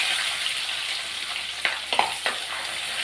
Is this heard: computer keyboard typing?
no